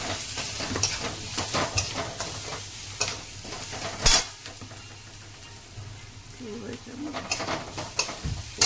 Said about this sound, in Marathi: नंतर अपन हळद टाकणार छान परतून घेऊन